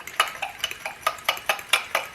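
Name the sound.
mixing baking powder batter in a bowl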